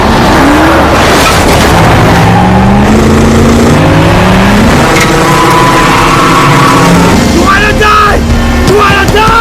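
Cars in a movie-style street chase, with engines revving and climbing in pitch continuously and loudly, the tones overlapping as vehicles accelerate, along with rising whines and some scraping noise.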